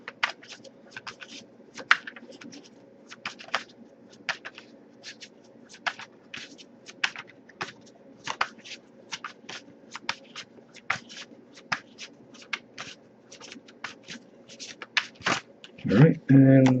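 A tarot deck is shuffled by hand in a steady run of quick card riffles and taps over a low background hum, ending with a brief burst of handling noise.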